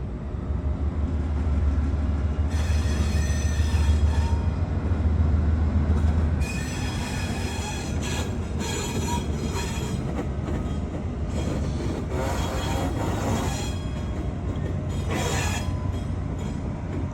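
BNSF freight locomotives move through the Galesburg rail yard, a steady loud rumble of diesel engines and rolling cars with metallic wheel squeal and clatter running throughout, close by and without speech.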